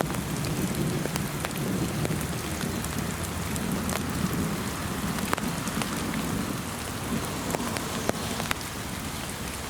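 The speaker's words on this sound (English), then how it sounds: "It's only rain." Steady, loud rain pours down on Saddler's Woods, with dense patter and occasional sharper drops hitting wood and leaves, and no voices over it.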